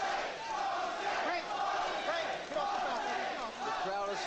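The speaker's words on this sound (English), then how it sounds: "Crowd taking up a chant of Jose." A boxing arena crowd at the Tyson versus Jose Ribalta fight roars and chants for Jose, a dense, sustained wall of voices with rhythmic rising calls, loud and continuous throughout.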